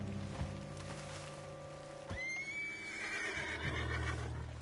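A horse in Red Dead Redemption 2 whinnies once, a rising then wavering neigh over a low steady background hum, fairly faint.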